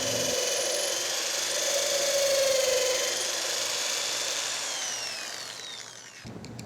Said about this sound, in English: we can drill our second hole location on both sides of our project